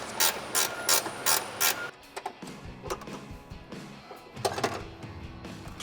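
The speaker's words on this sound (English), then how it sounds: "13mm wrench to get that off." A ratchet wrench turns 13mm exhaust bolts between the frame and muffler of a 2005-2010 Mustang GT, with crisp, close pawl clicks in quick regular bursts, pausing briefly, then resuming in a second run.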